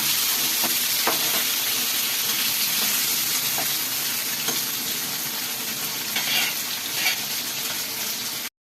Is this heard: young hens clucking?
no